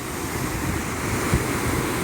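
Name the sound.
waterfall, Kukdi Khapa waterfall in Chhindwara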